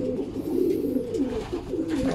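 Racing pigeons cooing close by, a steady run of low, soft, throaty coos with no talk.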